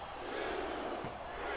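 Steady roar of an arena crowd in the WWE SmackDown vs. RAW 2007 wrestling video game, a dense continuous wash of voices with no distinct chant rhythm, loud and unbroken throughout.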